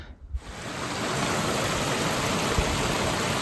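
A glacier-fed mountain stream rushes steadily and loudly nearby along a hiking trail, a dense continuous roar that swells in after a brief quiet start.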